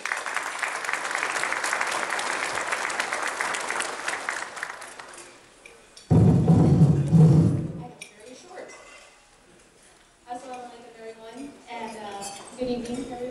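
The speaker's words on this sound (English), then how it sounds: "Please give her a big round of applause." Banquet audience applauding: several seconds of dense clapping, then the clapping fades out and a speaker begins talking at a microphone.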